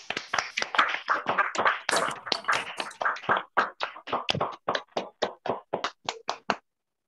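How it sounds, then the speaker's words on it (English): Participants in an online Toastmasters club meeting applaud together, a dense burst of overlapping claps that thins into a few separate, evenly spaced claps before stopping. "please unmute yourself and then applaud so that our speaker can listen your applaud"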